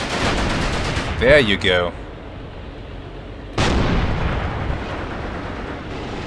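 Tank gunfire in a World War II tank warfare game set in Tunisia, 1943, with a rumbling battle roar, a brief warbling tonal effect, a sharp loud blast partway through, and sustained din afterward, under a man's short remark.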